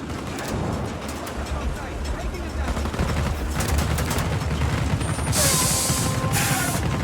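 Video game gunfire from Just Cause 4 battering a truck: dense, rapid bursts of shots and impacts over a constant roar, with louder sharp bursts toward the end and a voice talking underneath.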